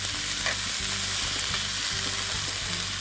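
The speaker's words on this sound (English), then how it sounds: "Here I've got some chopped up onions, green peppers, and tomatoes, and I'm going to saute those in the oil." Chopped onions, green peppers and tomatoes sauté in hot oil in a skillet, giving a close, steady sizzle with soft stirring scrapes throughout and no talking.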